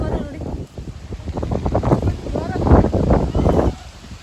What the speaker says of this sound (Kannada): ಗಾಳಿ ಎತ್ಕೊಂಡ್ಬಿಟ್ಟಿದೆ, ಮಳೆ ಬರುತ್ತೆ ಇವಾಗ